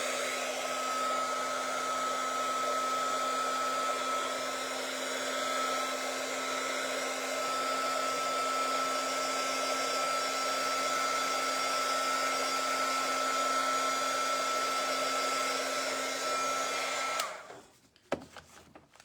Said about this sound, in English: I'm going to dry this glue. It's taking a minute. There's a lot of glue there.